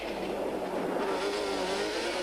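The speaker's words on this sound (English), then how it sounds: "The Class L quads are sophisticated pieces of machinery and provide for some spectacular racing." Class L racing quads, including a Yamaha Banshee, race on a loose-surface course, engines droning steadily and loud throughout with a rising engine tone and no talk.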